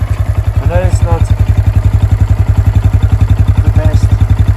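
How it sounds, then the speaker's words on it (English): A 2023 Honda Grom MSX 125 motorcycle idles close up through its small aftermarket exhaust, a loud, rapid, even thumping pulse that runs throughout, with someone briefly talking over it. "But just listen to this little exhaust."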